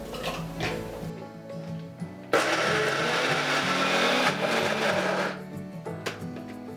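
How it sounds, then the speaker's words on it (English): An electric blender whirs loudly for about three seconds, a steady motorized roar between softer clattering of kitchen items. "Put everything into the blender."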